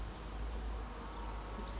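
Honeybees from a nuc being moved into a full hive make a steady, low continuous buzz that fills the whole moment at a fairly quiet, even level, with no voices.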